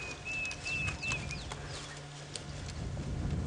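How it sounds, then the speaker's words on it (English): Diederik cuckoo calling from the bush during an evening safari drive in the African savanna, a thin repeated whistling phrase over steady low vehicle and outdoor rumble, fairly distant, no talk. "If you listen carefully, you hear a Deirdre's cuckoo calling."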